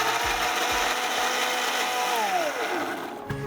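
Electric kitchen mixer grinding boiled onion and garlic into a paste, a loud whirring motor with pulsed starts at first, then a steady run whose pitch slides as the blades bite, ending abruptly.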